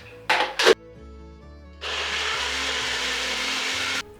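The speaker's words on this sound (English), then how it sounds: "I like to blend 1 onion, 2 tomatoes, 1 inch ginger and 2 green chilies into a paste." A countertop kitchen grinder blending onion, tomatoes, ginger and green chilies into a paste: a couple of brief knocks, then a loud, steady whirring burst of about two seconds that stops abruptly.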